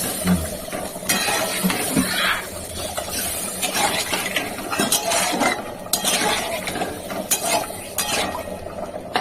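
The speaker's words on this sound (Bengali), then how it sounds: "ঘুরেই দিচ্ছি" Egg curry stirred in a pot, a utensil scraping and clinking against the metal in a steady, close rhythm over a soft simmer, with sharp clinks scattered throughout.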